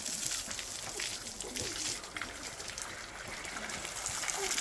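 Water splashing and trickling while a 1970 AMC Gremlin is washed, a steady close wash of spray and dribble with small splashes throughout.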